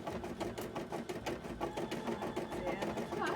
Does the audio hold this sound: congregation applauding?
no